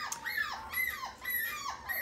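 A young puppy, newborn-litter age, whimpering in a repeated series of four high, falling whines, close and fairly loud with no voices.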